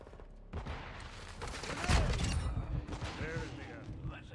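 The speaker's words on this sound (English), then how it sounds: "what is that gun? It's a semi-auto." A semi-automatic gun fires in MW3 Zombies gameplay, with a few sharp shots and booming bursts over a steady game background.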